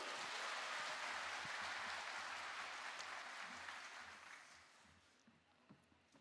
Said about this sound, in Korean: 박수 한번 치고 시작하시죠. 박수!